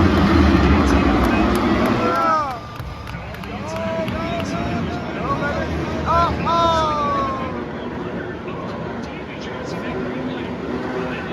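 Several 250-class supercross motorcycles rev and scream off the starting gate at Anaheim, engine pitches rising and falling as they shift, heard loud and close over a roaring stadium crowd.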